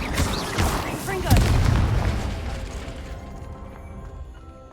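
A fire spell blast, Confringo, from the video game Hogwarts Legacy: a loud booming burst with a crackling, fiery tail that slowly fades beneath a continuing low rumble of game sound.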